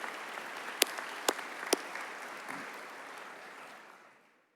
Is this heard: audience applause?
yes